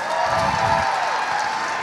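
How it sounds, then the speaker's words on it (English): Debate audience at a rural achiever event responds with a brief burst of cheering and applause, a dense, steady crowd noise at moderate loudness. "we'd like to hear a big cheer for our affirmative team"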